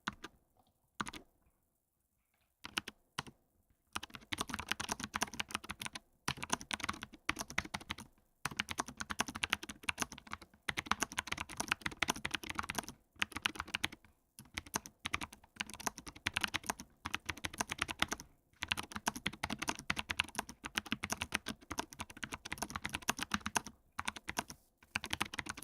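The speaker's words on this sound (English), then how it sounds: "So the Nomad's got the clicky switches. So we got clicky switches here." A Nomad keyboard with clicky switches is typed on in rapid, continuous bursts of sharp clicks, broken by short pauses, close and with no voices.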